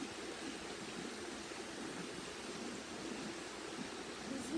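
River water flows in a steady, faint wash of rushing, gurgling sound, continuous and even throughout without any voices.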